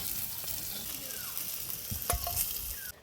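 French fries (potato) frying in hot oil, with a steady broad sizzle, occasional utensil scrapes and clinks, and a few louder stirring knocks near the end; no one speaks.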